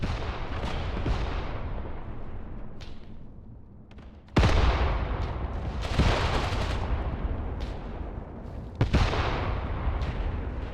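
Artillery fires in the Mius Front war game, several heavy booming shots with long rolling echoes, some distant and some sharper and closer, over a continuous low rumble of battle.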